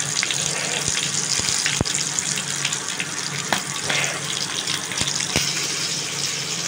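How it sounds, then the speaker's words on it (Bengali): Leaves being washed under a running tap, a steady gush of water splashing continuously with occasional sharp knocks and clatters close by. "এবার পাতাগুলো ধুয়ে নিয়েছি"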